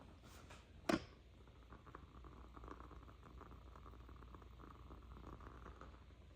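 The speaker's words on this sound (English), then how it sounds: "Can y'all hear my woodwick candle burning?" Soft, steady crackling and faint popping hiss quietly throughout from a burning wooden-wick candle, with one sharper snap near the start; no voices.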